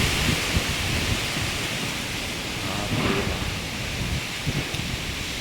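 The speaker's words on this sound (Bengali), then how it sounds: "অনেকটা জোরে হাওয়া বইছে" Loud, continuous rushing roar of strong Kalbaishakhi storm wind, broadband and unbroken, with faint rustling of leaves mixed in throughout.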